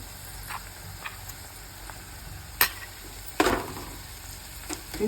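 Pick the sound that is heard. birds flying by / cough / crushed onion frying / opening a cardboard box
crushed onion frying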